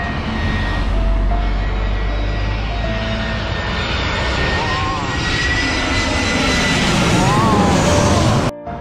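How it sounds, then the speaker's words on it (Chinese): A large airliner passes low overhead near Sanya Phoenix Airport, a loud sustained jet-engine roar with a rising whine that swells and holds throughout before cutting off abruptly at the end. "让大家感受一下飞机飞过头顶的这种震撼的感觉"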